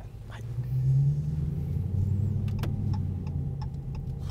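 From inside a Dodge Challenger R/T Plus Shaker on the move, a deep engine rumble swells and then holds steady, with scattered light clicks and people talking quietly in the cabin.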